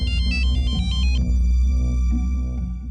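A mobile phone plays a melodic electronic ringtone, loud and close, a repeating beeping tune over a heavy low hum, with no talk.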